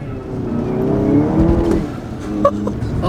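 A Stage 2 VW GTI in sport mode accelerates hard with wheel spin, the engine note climbing steadily and loud over a few seconds before easing off with a brief sharp burst.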